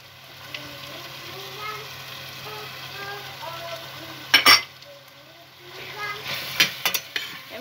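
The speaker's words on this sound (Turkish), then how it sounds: "Arkadaşlar böyle karıştıracağız iyice iyice" Vegetable bulgur with tomato paste, hot pepper and black pepper being stirred in a frying pan, a soft scraping stir with low sizzle, near and fairly quiet, with a couple of louder clatters of the spoon against the pan.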